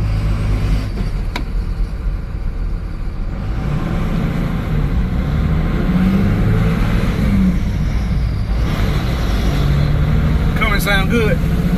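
A 12-valve Cummins diesel truck drives along with a loud, continuous low engine drone and road rumble, close up, as people talk over it.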